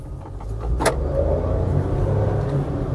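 A Maruti Suzuki S-Presso with an AMT gearbox accelerates to overtake. Its engine drone swells after a brief click and holds loud and steady, heard up close without talk.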